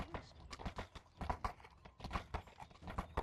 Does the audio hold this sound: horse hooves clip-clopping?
yes